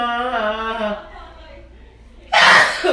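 A person getting a nose piercing lets out a sudden, loud, close sneeze at the end, after a drawn-out vocal intake and a short quiet pause.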